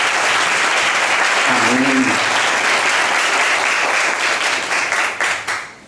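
Congregation applauding during an evening church service, a dense sustained burst of clapping that fills the clip and fades at the end, with a brief spoken word from a voice partway through.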